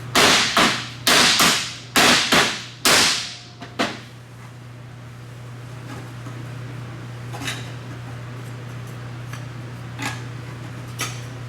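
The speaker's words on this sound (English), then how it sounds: "Hammer it some more" Six sharp metallic hammer blows ring out in quick succession on a cracked Rotary RX-7 intercooler in a garage, followed by a lingering shop hum and a few faint clinks.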